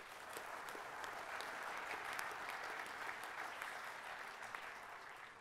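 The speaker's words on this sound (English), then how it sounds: "So please give Jeff and Bob and all the men in blue today the biggest round of applause." Audience applause at a Jalsa Salana gathering, steady crowd clapping heard from a distance, even and sustained for several seconds with scattered sharper claps and no talk over it.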